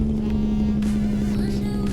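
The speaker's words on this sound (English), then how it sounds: "All I hear is the truck, which is just fine" A heavy truck with a Caterpillar 3408 diesel engine drives on a steady run, its engine drone constant and close with a strong low hum throughout, in a driving game.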